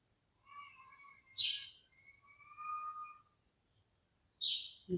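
Birds chirping outdoors, a few clear whistled calls and sharp high chirps in a quiet setting, moderately near with pauses between them and no talk.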